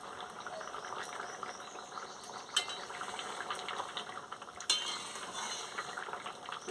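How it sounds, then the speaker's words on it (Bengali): Lentil dal with pumpkin stems simmering in a pot, a soft, steady bubbling and faint sizzle, with two brief metallic knocks of a utensil against the pot; no one speaks. "বন্ধুরা দেখুন কি সুন্দর টকবক করে ফুটছে"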